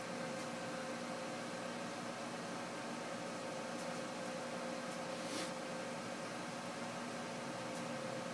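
Hot air rework station blowing steadily while desoldering a DC power jack from a circuit board, a continuous close hiss with a faint hum and a few small clicks.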